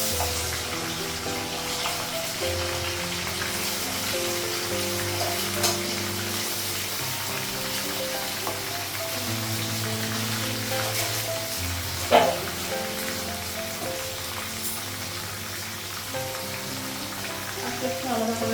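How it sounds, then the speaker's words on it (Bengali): Meat frying in a pan for a Bengali home-cooked dish makes a steady, close sizzle with occasional stirring scrapes and clatter that runs the whole time, with no talking. "মাংসটা ভেজে নিই"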